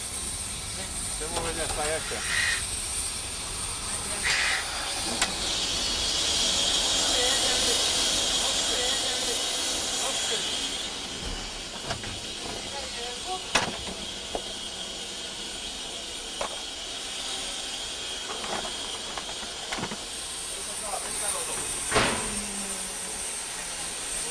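Inside the cab of a Polish steam locomotive, a loud, continuous hiss of steam fills the space, broken by scattered sharp clanks and knocks of the engine.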